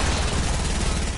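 Sniper rifle fire in a Fortnite-style shooter game, a dense burst of loud, close gunfire with heavy low-end rumble filling the moment before it cuts off.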